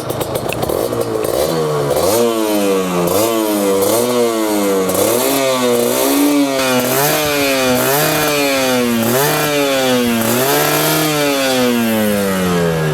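A loud two-stroke motorcycle engine revs repeatedly, its pitch climbing and dropping in rhythmic surges, close and continuous with no talking.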